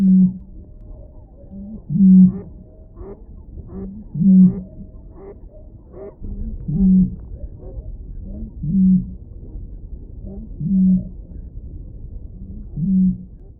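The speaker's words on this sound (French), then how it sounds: "un grand héron des roselières qui fait une sorte de mugissement" Deep, hollow booming calls of a Eurasian bittern repeat every two seconds or so, low and resonant around 200 Hz like blowing across a bottle, with faint background noise.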